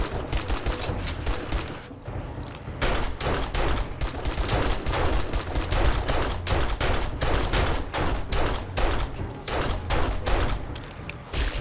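Rapid bursts of gunfire hammer at a steel pillar in the video game 7 Days to Die, dense volleys of shots repeating loudly with short gaps between them.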